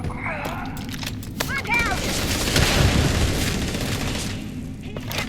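Rapid bursts of gunfire from a weapon in the sci-fi game Starfield, a dense run of loud booming shots piling up over a few seconds amid other combat noise, with no talk.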